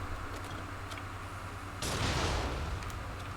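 A single heavy cannon blast erupts mid-clip in the video game Nioh 2, a broad roaring boom over steady game background noise, close and loud.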